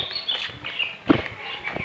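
Small birds chirp in short scattered bursts along a village road in the late afternoon, with light rustling and a faint thump in the background.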